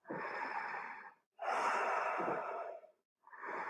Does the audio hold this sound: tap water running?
no